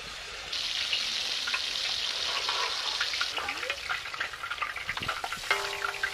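Hot oil sizzles and crackles loudly as chicken deep-fries, a dense hiss with scattered pops, easing slightly toward the end with some clinking.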